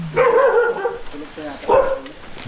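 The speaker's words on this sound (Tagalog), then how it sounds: "Natahol yung tuta." A puppy at a camping site barks twice in short yappy bursts, close by, with people talking around it.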